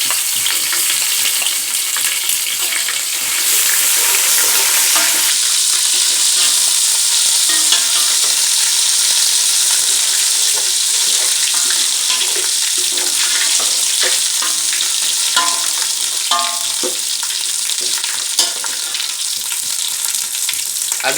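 Onions browned in a pan with garlic and ginger paste sizzle steadily while a spoon stirs and scrapes through them. Loud and close, the frying goes on continuously for about twenty seconds with no talking.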